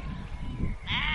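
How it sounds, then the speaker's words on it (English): A sheep on Dartmoor gives one close, wavering bleat near the end, heard over low wind rumble and outdoor background noise. "Follow the sheep."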